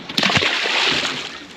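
A splash in the calm sea beside a small fishing boat, a sharp close slap of water followed by sloshing and spray that fades over a second, with faint voices in the background.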